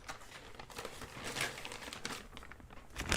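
Plastic bag crinkling and rustling in bursts while GI Joe toy parts are packed, close and fairly quiet, with irregular crackles and no talking.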